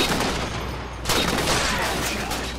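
Halo 4 team sniper match, where a sharp rifle shot cracks out amid a busy wash of battlefield gunfire and explosions, and the sound stays dense and loud throughout.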